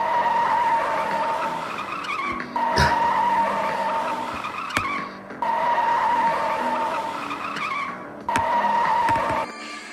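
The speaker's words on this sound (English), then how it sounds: "slipped on some water, and spun out of control" Toy train engine in a comedy heist skit skidding on a wet road and spinning out of control, rendered as loud sustained tire-squeal skids with sharp impacts, repeated twice across the stretch.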